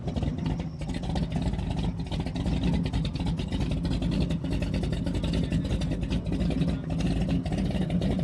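An antique boat engine at a boat show runs steadily and loudly close by, a continuous rough mechanical drone with slight surges as it is revved, no talk over it.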